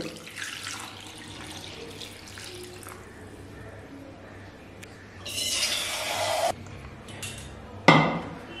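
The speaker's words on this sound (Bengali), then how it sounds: "এই ময়দার ডোর ওপরেই জল ঢেলে দেব" Water pours onto set flour dough in a home kitchen, a short splashing gush around the middle followed by a brief sharp splash near the end, otherwise quiet surroundings.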